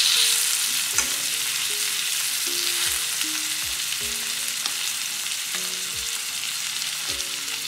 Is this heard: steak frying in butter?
yes